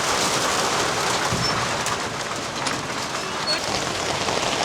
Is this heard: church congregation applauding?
no